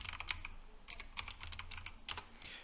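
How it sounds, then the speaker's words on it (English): Someone types a passphrase on a computer keyboard in a quick, uneven run of soft, close keystrokes, with no voices. "So I'm actually going to type in the passphrase."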